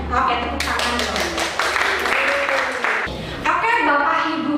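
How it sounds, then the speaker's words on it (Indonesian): A room of teachers claps hands together at a workshop, a burst of scattered clapping that starts after a moment and carries on with voices talking over it. "Oke, tepuk tangan dong."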